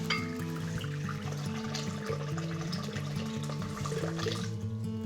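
Warm water runs steadily from a kitchen faucet for bread yeast, a continuous close rushing stream filling a container with no talk over it.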